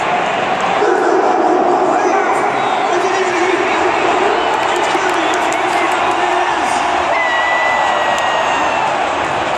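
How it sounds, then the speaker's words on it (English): A dog barks to start a wiener dog race at a Seahawks event, the yaps rising over a loud stadium crowd that cheers throughout while voices talk. "The race begins at the sound of the barking dog."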